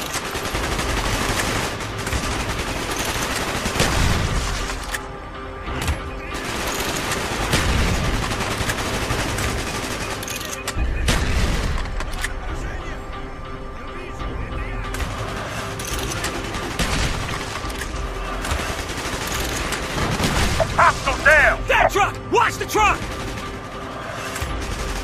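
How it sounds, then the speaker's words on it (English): Gunfire in the video game Call of Duty: Black Ops rattles in repeated bursts of automatic fire and heavy booming shots, loud and dense throughout, with occasional crashes and battlefield noise mixed in. "Gunfire's drawing attention"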